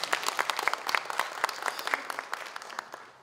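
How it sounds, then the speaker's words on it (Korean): A crowd applauds steadily at a welcome reception in Daegu, South Korea, with dense, overlapping claps that gradually fade toward the end. "좋은 말씀 해주신 김영년 회장님께 큰 박수 부탁드립니다."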